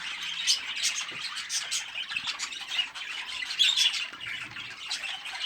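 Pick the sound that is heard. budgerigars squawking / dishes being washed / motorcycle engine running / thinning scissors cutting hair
budgerigars squawking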